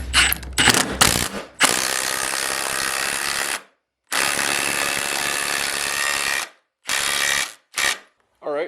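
A ratchet turns a universal socket in long, steady bursts of fast clicking, loud and close, separated by short pauses.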